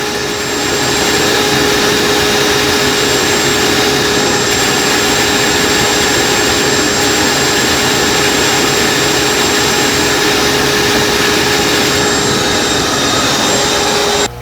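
An aquarium gravel vacuum sucking debris out of a pleco tank makes a loud, steady, unbroken roaring whoosh that holds constant throughout, with no voices.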